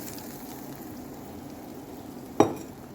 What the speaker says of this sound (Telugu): చూడండి, ఇంగువ ఆవాలు వేసి బాగా కాచిన నూనెని కలుపుతున్నాను